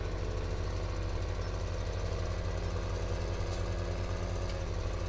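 Tractor engine running steadily with mowers mounted on the front in Farming Simulator 17, a continuous loud idling rumble with rhythmic low-end pulsing throughout, no talk.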